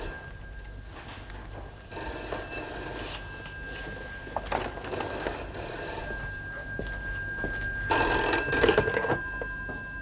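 A telephone bell rings in repeated bursts, loud and close, with a steady room hum underneath and no talk.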